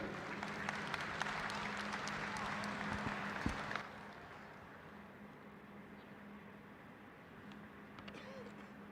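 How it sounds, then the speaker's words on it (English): Applause from the crowd at a junior beef cattle show ringside, a steady wash of clapping for the exhibitors that lasts about four seconds, then drops away to quieter arena ambience. "let's give these exhibitors a round of applause"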